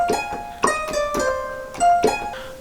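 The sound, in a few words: Koto #5 preset from Xpand!2 ethnic category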